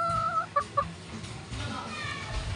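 A tethered hen clucks in a few short bursts, close and fairly clear, followed by quieter outdoor background noise.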